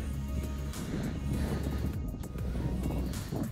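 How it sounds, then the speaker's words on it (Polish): Steady outdoor wind rumbles and buffets a microphone throughout, a continuous broadband roar with gusty swells and no speech, recorded in an open field during metal-detecting exploration. "Nadal wieje."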